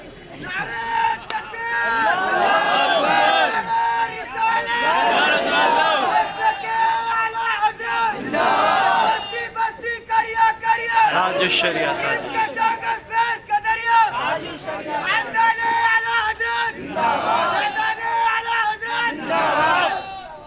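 A large audience at an Islamic religious speech roars back chanted responses to slogans, loud massed voices rising and falling in repeated waves for the whole stretch.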